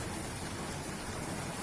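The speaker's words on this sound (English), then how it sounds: "Very good rains." Heavy monsoon rain on a balcony in Delhi, a dense, steady downpour hiss filling the whole moment without a break.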